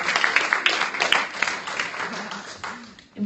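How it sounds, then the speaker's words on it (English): Scattered applause from a congregation at a spiritual service, moderately loud and uneven, thinning out toward the end as a voice begins to speak. "Give yourself a round of applause."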